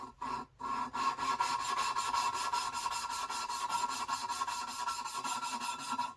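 Rapid back-and-forth rasping scrapes repeat in a steady rhythm as an engine valve is lapped with grinding compound in a small-block Mopar cylinder head, gritty metal against paste, fairly faint and close, with no voices.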